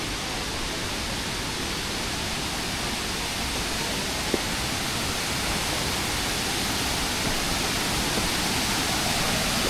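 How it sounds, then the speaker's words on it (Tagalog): Cabugahay Falls waterfall pouring in a steady, broadband rush that stays loud and constant with no pauses, sounding close and filling the whole scene alone. "Ito yung mga waterfalls."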